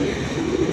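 Pigeons cooing steadily and close, a continuous low murmur of coos from birds kept by a pigeon keeper, with no voices over it.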